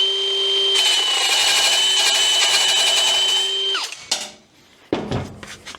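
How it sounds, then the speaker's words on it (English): A Milwaukee rebar cutter runs with a steady motor whine and grinding hum for about three seconds, then winds down, followed by a couple of sharp clunks and a short rattling noise close by. "Now I'm hoping the rebar cutter will do it."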